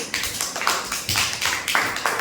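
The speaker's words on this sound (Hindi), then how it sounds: "ताली बजाओ अजीत के लिए" Students clap in a classroom for a pupil named Ajit. The claps come as a fast, uneven patter of overlapping hands in several loud bursts.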